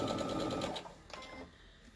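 A sewing machine chain-pieces fabric for a Halloween bat block, running in a steady fast whir for about three-quarters of a second and then stopping, leaving quieter handling noise.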